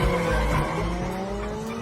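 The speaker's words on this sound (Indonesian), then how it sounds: "Tepat pada waktunya, sebuah mobil lewat." A car speeds past on screen with skidding, squealing tires, a loud close engine roar that holds steady across the short burst with no talking.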